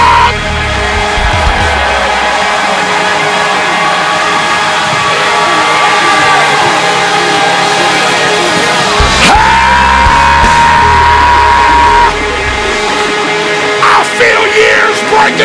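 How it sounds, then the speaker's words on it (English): A worshipping church congregation raises a loud, continuous roar of shouts and whoops with scattered clapping, sustained from start to finish with a brief rising whistle-like tone partway through. "Give him three claps and a shout."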